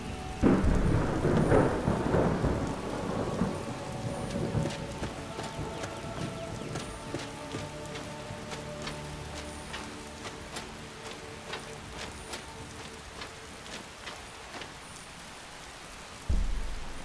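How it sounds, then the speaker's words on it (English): Steady rain with rumbling thunder in Skyrim, heavy at first and then a constant downpour with faint ticking and clopping, ending on a sudden loud thunder crack. "can this storm piss off?"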